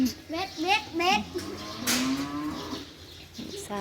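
Cattle mooing on a farm where sheep and cows are kept, several drawn-out, rising low calls close by in quick succession with open outdoor background; a voice talks faintly around them.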